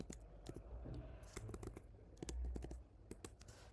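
Someone types a command on a computer keyboard: a quick, irregular run of close, crisp key clicks with a heavier thud near the end, like the enter key.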